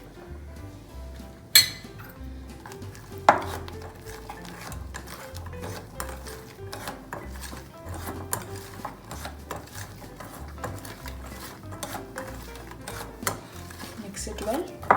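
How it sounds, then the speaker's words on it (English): Eggless cake batter for a dalgona coffee cake being mixed in a bowl, with repeated clinks and scrapes of a utensil against the bowl and a few sharper knocks, steady and close, with no talking. "Mix it well."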